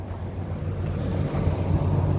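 A 1999 Ford F-150 truck idles with a steady low engine rumble and a faint hum above it, even and unbroken, with no voices over it.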